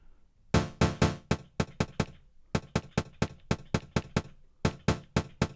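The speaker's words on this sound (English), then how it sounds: "create a very, very short, almost ghost note-ish sound" A rapid series of very short, dry percussive ghost-note drum hits sampled on a Digitakt, clipped and tight, repeating in uneven bursts with brief gaps.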